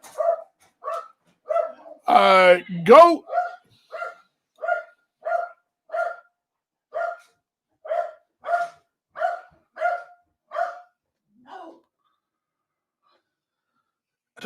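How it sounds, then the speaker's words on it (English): A dog barks over and over in a steady run of short, evenly spaced barks, fairly close, with one louder drawn-out yelp early on and a brief spoken word near the start. "There goes the dog again."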